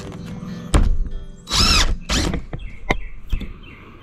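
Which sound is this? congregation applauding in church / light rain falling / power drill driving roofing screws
power drill driving roofing screws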